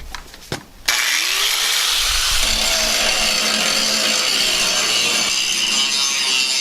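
Abrasive disc grinder stripping paint from a tractor loader bucket, starting abruptly after a short quiet lead-in and then running as a steady, loud, continuous rasp that holds unbroken to the end.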